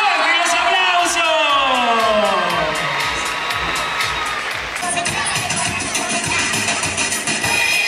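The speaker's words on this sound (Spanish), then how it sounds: "¡Fuerte los aplausos!" An audience at a belly dance competition, with the judges being welcomed, cheers, whoops and applauds loudly and continuously, and an amplified voice carries over the crowd noise.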